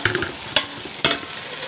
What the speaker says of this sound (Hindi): अभी हम इसको भूनेंगे 2 से 3 मिनट